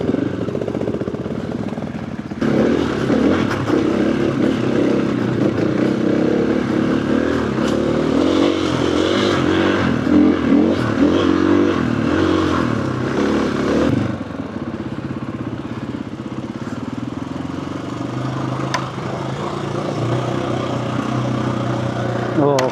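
An off-road motorcycle engine braking down a muddy winter green lane in South Devon, a steady close engine drone with clattering and scraping, and someone talking over it for much of the run.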